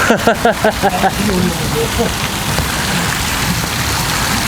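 Steady rain pours down outdoors during a freezing winter fishing outing at minus ten degrees, a continuous hiss after a brief burst of a voice at the start.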